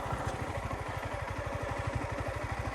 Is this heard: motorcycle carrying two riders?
yes